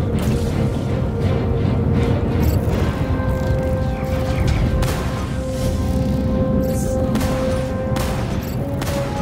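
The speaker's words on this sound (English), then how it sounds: "That one's shooting at me" Enemy Aurora ship fire in Star Citizen arrives as a steady barrage of impacts and booms over a constant engine drone, with several sharp hits standing out.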